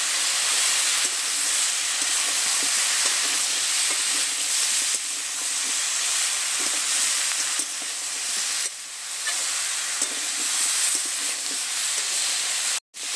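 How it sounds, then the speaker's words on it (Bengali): A loud, steady sizzle of mixed winter vegetables with turmeric and lentil dumplings being stirred and sautéed in an open pan, continuous close hissing with faint scraping throughout and a brief break near the end. "নেড়ে চেড়ে সবজিটা বেশ সুন্দর করে কষে নেব।"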